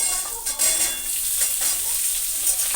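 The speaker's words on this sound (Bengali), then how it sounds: "একটুখানি জিরে ফোড়ন দিয়ে দিয়ে দিচ্ছি আলুগুলি" Potatoes fry in hot oil tempered with cumin seeds, giving a loud, continuous sizzle with occasional stirring scrapes throughout.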